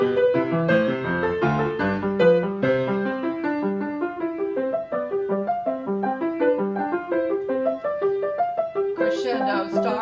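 Piano plays a Bach Invention phrase with two-voice sequences, softening suddenly to a subito piano, clear and close with no talking.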